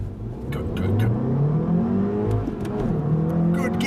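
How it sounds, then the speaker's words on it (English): An Audi S1 accelerates hard, the engine note rising in pitch, dropping briefly at a quick gear change, then climbing again, loud and close from inside the car. "Good gear change."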